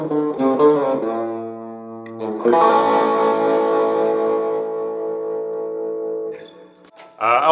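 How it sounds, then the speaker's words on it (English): Shimmering clean-ish tones from a 1965 Guild T100-D Slim Jim hollow-body guitar through a Rockett Archer clone pedal, a few plucked notes then a long strummed chord swelling and decaying, with a fresh strum at the end. "I also like the way I can get a real shimmery sound on this. Right now I've got kind of a clone effect on it."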